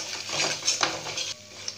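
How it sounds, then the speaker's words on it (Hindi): Spice masala being stir-fried in a pan for a yogurt potato curry, with a spoon scraping and clinking against the metal over a soft sizzle, several close strokes then a brief quieter pause. "इसे डालकर हम इधर और भूनेंगे।"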